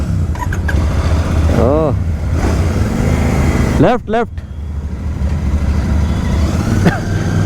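A Royal Enfield Bear 650 motorcycle is ridden on the road, its engine droning steadily and rising in pitch with revving and acceleration, mixed with wind noise while a rider talks briefly over it.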